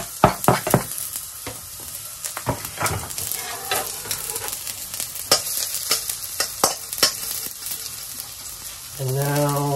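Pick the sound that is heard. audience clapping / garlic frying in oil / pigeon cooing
garlic frying in oil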